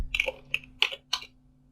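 A computer keyboard typed on in four separate clicky keystrokes, close and clear over a faint electrical hum, with no talking.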